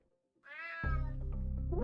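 A cat meows in the UnMetal video game: a long, loud, rising-and-falling meow over a steady game music bed, close and clear.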